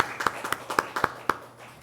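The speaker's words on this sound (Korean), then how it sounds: "우리 심차 박수로서 환영하겠습니다" A small church congregation claps in welcome, a short burst of sharp, uneven hand claps close by, tapering off within two seconds.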